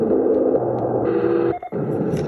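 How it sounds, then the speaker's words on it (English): A SERENLUX white noise sound machine runs its fan setting: a steady, close, even whooshing hum with a faint tonal drone, broken by a brief dip in level near the end before resuming. "now we're hearing 8 fan sounds"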